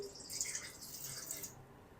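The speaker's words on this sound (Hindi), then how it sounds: "चलिए, तकरीबन 1 कप हम इसके अंदर पानी शामिल करेंगे।" Water is poured into a pot of meat being cooked for fried tikka boti, a soft close splash and trickle lasting about a second and a half before fading to quiet.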